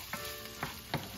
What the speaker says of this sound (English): We got our sauteing corn.